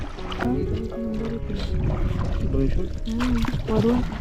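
A wooden rowboat carries passengers across water on a trip to Kelshi market in Konkan, with a low, steady water-and-hull wash running under continuous nearby conversation.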